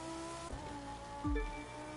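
Engine of a Bugatti with a W16 racing in The Crew 2 video game, a steady game engine drone with harmonic tones throughout and a deep surge of revving near the end.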